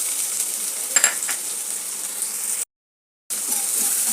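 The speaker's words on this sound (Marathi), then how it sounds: "जिरे तडतडले" Cumin seeds crackling and sizzling in hot oil in a kadai, a continuous close fry with a few sharp pops, briefly cut to silence and then resuming.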